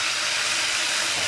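Chopped onion, about a cup, sizzling in a pan as the base for Rogan Josh, a steady dense hiss heard close and alone with no talk over it.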